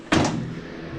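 The door of a Case TR310 track loader swings open on its gas shock with a single sharp clunk, then a fading hiss and rattle, fairly close.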